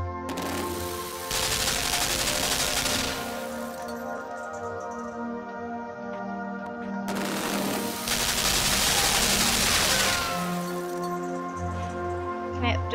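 Gunfire in the video game Limbo sounds as two long bursts of rapid, loud shooting separated by a few seconds, over a steady humming background.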